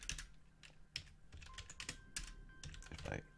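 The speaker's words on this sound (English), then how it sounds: "If I can type" Quiet keystrokes on a computer keyboard, a quick irregular run of soft clicks close by.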